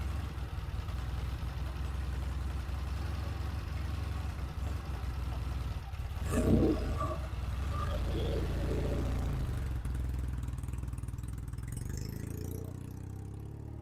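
A Norton motorcycle engine runs steadily at idle close by, a low continuous rumble with a brief louder burst midway and a faint voice near the end.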